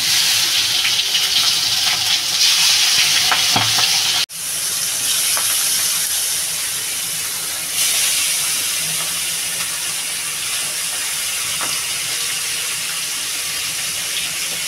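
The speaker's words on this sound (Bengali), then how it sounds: "এই মাছটা আমি বেশি ভাজবো না" Marinated pabda fish pieces sizzle in hot oil in a home kitchen, a steady loud hiss of frying close by with a brief break partway through.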